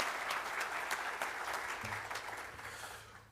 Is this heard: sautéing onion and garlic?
no